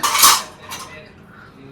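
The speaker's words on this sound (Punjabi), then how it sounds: "ਭਾਂਡੇ ਧੋਣ ਲੱਗ ਗਿਆ" Dishes being washed at a sink, with a short bright clatter of cutlery and pots right at the start, a second lighter clink, then quieter handling, close and with no talk.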